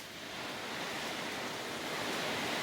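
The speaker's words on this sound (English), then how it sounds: "Can you hear that? It just started pouring." Heavy rain pours sideways outdoors, a dense, steady hiss of downpour building slightly in loudness and filling the whole clip without any voices.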